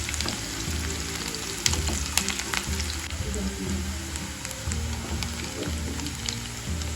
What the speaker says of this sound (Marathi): कांदा गुलाबी करून घ्यायचं जास्त करपवायचं नाही